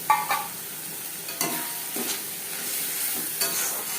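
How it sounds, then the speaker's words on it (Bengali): Fish oil fries with onion and spices in a pan, a soft steady sizzle with a few distinct scrapes and knocks of a spatula as the mixture is stirred, close and without speech. "পেঁয়াজের সাথে মাছের তেল বেশ ভালো করে মিক্স করে দু তিন মিনিট নাড়াচাড়া করে নেওয়ার পর"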